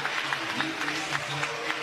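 Crowd applause at a stadium during a college softball game between BYU and Oklahoma, a fairly faint, steady clapping from a distance running under a radio announcer's voice.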